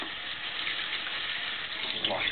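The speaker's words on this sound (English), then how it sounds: "Wash my hands off that meat." Kitchen faucet running steadily as hands are rinsed clean of raw pork while cooking pork chops, a continuous close hiss of water splashing into the sink throughout.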